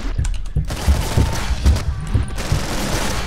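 Rapid gunfire in the shooter Killing Floor 2, close and loud bursts of shots fired in quick succession with short gaps, some heavier thumps mixed in.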